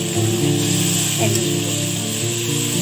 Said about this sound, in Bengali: সবজিগুলোকে দিয়ে আমি কিছুক্ষণ 5 মিনিট মতো ভেজে নিই